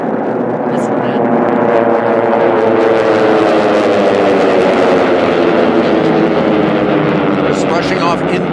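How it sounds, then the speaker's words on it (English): Radial-engined race planes roar past at a national air racing championship, a loud, dense, continuous drone with a commentator's voice over it. "They'll be hearing a lot of that round engine noise."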